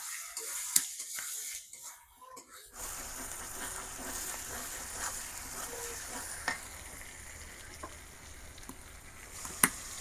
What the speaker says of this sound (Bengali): মশলা ভালোভাবে কষানো হয়েছে এনে চিংড়ি মাছ দিয়ে দিলাম চিংড়ি মাছ মশলার সাথে একটু কষাই নিমু ভালোভাবে